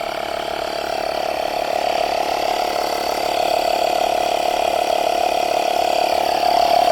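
A small GM air pump inflates a car tire with a steady mechanical whir and rapid ratcheting chatter, loud and close, holding an even drone throughout without talk.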